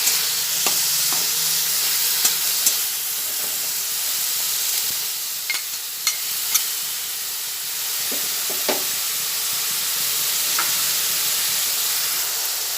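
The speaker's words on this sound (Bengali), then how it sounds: "পেঁয়াজ ভাজা হচ্ছে" Onions frying in a pan with a bay leaf for a chicken dish, giving a steady, close sizzle with occasional stirring clicks and scrapes, and no talk over it.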